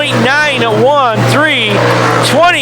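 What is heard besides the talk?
race cars speeding down speedway front stretch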